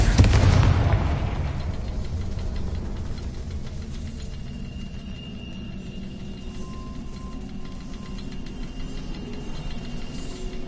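A single booming Confringo blasting curse explosion in Hogwarts Legacy, loud at the very start, then a long fading rumble that settles into a low steady ambient hum for the rest.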